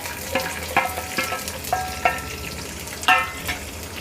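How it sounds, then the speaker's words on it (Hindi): Chopped onion and curry leaves frying in a pan over a medium flame, a continuous sizzle broken by repeated scraping and tapping of a spoon as they are stirred, close and fairly loud, with no talking. "अब इसे हमें मीडियम फ्लेम पर प्याज को भूनना है"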